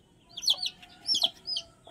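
Hen and her chicks clucking while being fed, soft close clucks mixed with several high, quick peeping chirps in short bursts, with no talking.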